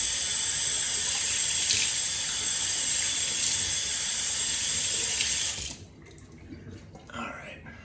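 Warm tap water runs from a faucet into a sink for wetting the face before a shave, a steady close rushing hiss that shuts off near the end, leaving quiet drips and faint room noise.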